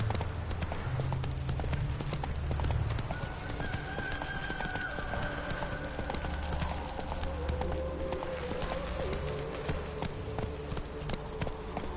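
Roach the horse's hoofbeats in The Witcher 3, a steady clip-clop of trotting hooves running throughout, close and moderately loud over a low ambient rumble with faint whinny-like tones.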